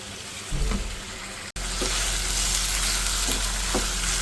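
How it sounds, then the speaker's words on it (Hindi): Minced meat keema with yogurt frying on high heat, a loud, continuous close-up sizzle with occasional stirring knocks and a brief sharp break partway through. "बस अब आपने कंटिन्यू इसकी भुनाई करनी है तेज़ आंच पर"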